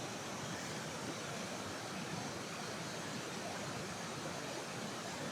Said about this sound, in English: There's so much water.